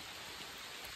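Steady rain falls over a rural Konkan hamlet in the monsoon, a dense even hiss of drops across the whole second with no voices.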